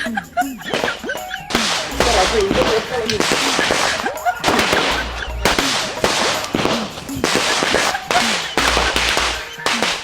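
Firecrackers burst in rapid, crackling volleys, loud and close, at a fireworks shop, separated by brief pauses with some voices in between.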